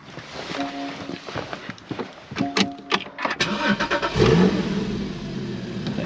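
A Porsche 981 Cayman GT4 Clubsport's 3.8-litre naturally aspirated engine cranks over with several starter bursts, then catches and flares into a loud rev that settles into a steady idle, heard up close.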